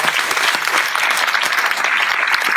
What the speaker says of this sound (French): on applaudit Laurence